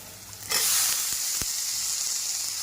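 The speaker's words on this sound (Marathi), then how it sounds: "आता इथं स्वच्छ धुवून घेतलेल्या भाज्या घालूयात" Washed mixed vegetables drop into hot oil with a sudden loud sizzle that keeps hissing steadily afterward, with a few faint clinks from the pan.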